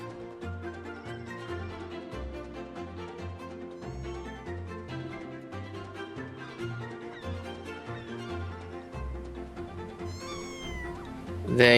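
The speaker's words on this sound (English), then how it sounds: "I can hear the second kitten." A kitten meows several times in short high cries in the video game Mika and the Witch's Mountain, over steady game music with a low rhythmic bass line, ending in a louder burst.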